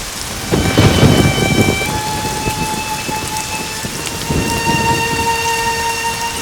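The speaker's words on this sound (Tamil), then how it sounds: "திடீர்னு மழை வந்து பூரா நனைஞ்சு வச்சு" Sudden heavy rain pours down steadily with rumbling thunder, a loud close downpour heard alone with no voices.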